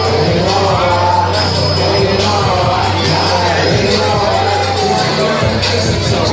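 A steady, loud murmur from the crowd at a live boxing event at Michael's Eighth Avenue, with indistinct voices and occasional shouts blending into a continuous roar.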